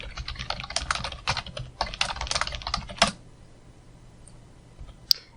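Fast, close keyboard typing as Python code is entered, in dense bursts of clicks for about three seconds, then near silence with one sharp click.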